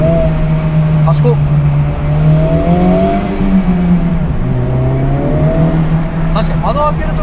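Honda Civic Type R FL5 VTEC engine running with a steady low drone that swells as revs rise and fall, heard from inside the car with the window open, under someone talking.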